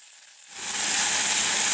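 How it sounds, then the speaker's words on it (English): Raw meat hits hot oil for a tamale red sauce, starting from near silence and swelling within half a second into a loud, bright, continuous sizzle that holds steady. "You're gonna fry it anyway."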